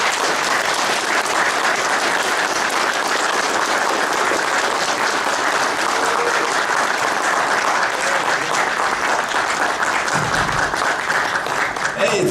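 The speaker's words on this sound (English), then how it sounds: "Hey, thank you for the clap." Sustained audience applause for comics artist Jim Steranko at a comic convention spotlight panel, steady and loud clapping from a large crowd filling the whole stretch without letup.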